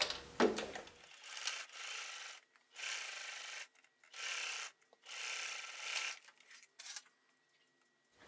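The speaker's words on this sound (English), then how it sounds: "Now I'm going to sew." A sewing machine stitches the curved lining of a fabric face mask with a 1/4 inch seam, running in several short, quiet whirring bursts separated by pauses.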